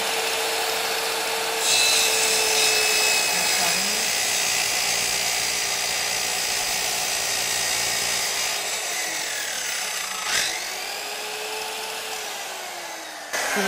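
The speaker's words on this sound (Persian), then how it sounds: "صاف این تخته رو نگه می‌داری بعد اره رو می‌کنی" A power saw cuts through a wooden board held flat, a steady loud whining buzz lasting throughout with slight pitch shifts as the blade bites and a brief sharper rasp near the end; no talking.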